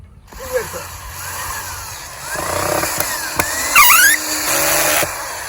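A power drill drives a screw into a wooden board for a raised garden bed, whirring in short rising and falling bursts outdoors alongside birdsong, with someone speaking in between.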